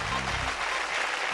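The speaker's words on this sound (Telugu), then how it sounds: "చప్పట్లు కొట్టండి" Studio audience clapping on a Telugu TV game show, a steady dense patter of many hands close by, with a voice speaking over the opening moments.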